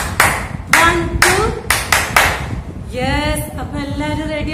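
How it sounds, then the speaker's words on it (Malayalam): Hands clap several times in a brisk rhythm at close range during a kindergarten online maths lesson, followed by a voice speaking. "clap your hands"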